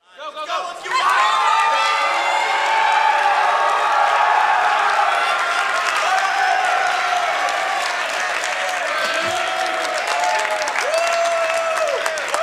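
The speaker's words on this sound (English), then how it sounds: "look at this exciting crowd going crazy" A Halo 3 tournament crowd roars with sustained applause, whoops and cheers in the stands, a dense, loud wall of clapping that swells quickly and holds steady throughout.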